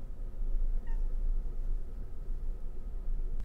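A cat meows faintly once in a quiet room near a blanket fort, a short thin call over low background hum.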